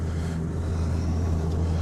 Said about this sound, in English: Sorry for the engine noise, but I'm just going to let it run.